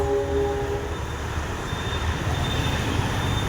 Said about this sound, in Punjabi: ਉਹ ਪਈ ਰੇਲ ਗੱਡੀ ਜਾਂਦੀ ਸਾਹਮਣੇ